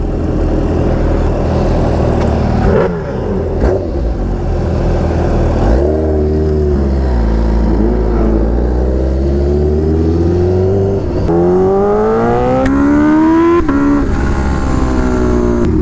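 A Bimota Tesi H2 motorcycle engine running close by, a loud continuous drone whose pitch rises and falls with a few revs, with no voices.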